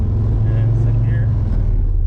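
A VR5 Savoy car pulls in second gear, its engine giving a steady, loud low rumble throughout with no break.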